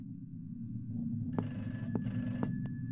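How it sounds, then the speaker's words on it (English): A telephone rings in a video game demo, several short electronic ring bursts over a steady low background hum, fairly faint. "Oh, phone ring."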